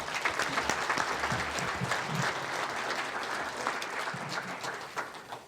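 Audience applause at a student awards ceremony: a sustained, even roar of many people clapping in a hall, continuing for several seconds before thinning slightly at the end.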